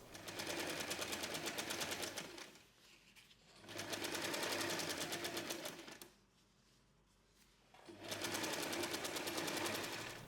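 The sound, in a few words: sewing machine sewing around a tote bag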